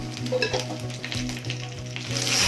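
Whole spices, cardamom, cinnamon, cloves and a little cumin, sizzle steadily in hot oil, a soft crackling hiss with occasional stirring scrapes and a faint low hum underneath.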